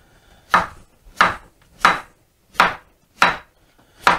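A knife chopping zucchini into cubes on a board, six crisp, evenly spaced cuts close by with brief silence between each, no talking.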